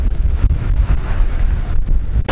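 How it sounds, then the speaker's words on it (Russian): Strong wind roars and buffets the microphone beside an ancient stone tower on a Crimean hilltop, a steady, loud low rumble with gusting swells, no voices. "Сильно, сильно, очень сильно дует ветер."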